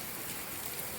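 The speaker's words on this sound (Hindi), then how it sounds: "कितनी अच्छी बारिश हो रही है।" Heavy monsoon rain falling steadily in Dehradun, Uttarakhand, a dense, continuous hiss of drops with no pauses, close and fairly loud throughout.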